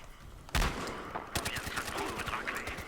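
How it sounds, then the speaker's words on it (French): Pistol fire in the multiplayer shooter Battlefield Hardline: a quick burst of fairly faint, sharp gunshots, one stronger crack followed by several rapid pops. "Oh, c'est fou ce pistolet aussi."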